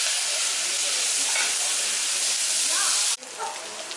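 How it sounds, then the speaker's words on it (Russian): Hot pepper fries in oil alongside onion and carrot in a kazan, a loud, dense, continuous sizzle that drops abruptly near the end to a softer crackle. "решил добавить чуть-чуть острого перца прямо сейчас в обжарку вместе с маслом, пускай обжаривается"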